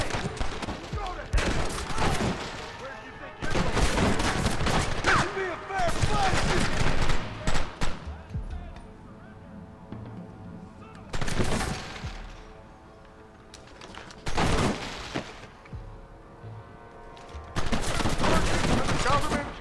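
Gunfire in Red Dead Redemption, repeated loud bursts of rapid shots and volleys coming in waves with short quieter gaps, plus occasional voices and game sounds between them.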